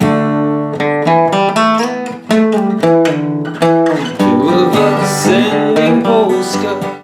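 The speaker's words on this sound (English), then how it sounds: "The first variation sounds like this." Acoustic guitar plays the first variation of the bass-line fill from a song, picked single notes and strummed chords in a steady rhythm, close and clear, with no voices.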